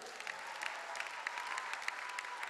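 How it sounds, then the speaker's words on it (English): Applause from a church congregation at a Christmas Eve service, a steady wash of many hands clapping at moderate level with scattered sharper claps, fairly distant and without talk. "Clap for that alone."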